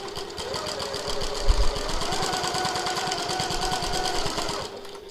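A sewing machine stitches fabric at regular stitch length to baste a strap tab, a rapid, even mechanical chatter running steadily for several seconds before stopping, with no talking.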